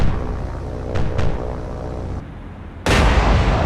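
Ship's naval guns firing at a Japanese scout aircraft in the War on the Sea naval combat game: a few sharp booming reports over a rumbling engine bed, then a loud sudden blast near the end.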